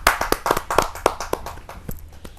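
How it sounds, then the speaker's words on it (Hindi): Clapping from an audience at a Hindi poetry gathering, a kavi sammelan: a run of sharp, distinct hand claps that are close and fairly loud at first, then thin out and fade over a couple of seconds. "जोरदार ताली के साथ।"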